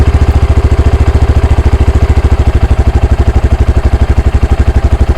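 Loud, close, steady single-cylinder idle from a Honda Grom with an erratic-idle fault, pulsing in an even rapid rhythm with no voices.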